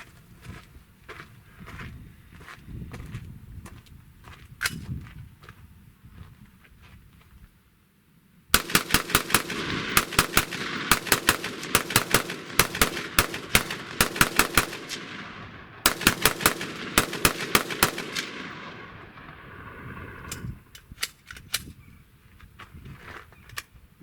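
Rifle gunfire at an outdoor shooting range, a rifle fitted with a limline flash hider, firing loud rapid strings of sharp shots in bursts with short pauses between them, and a few scattered single reports before and after.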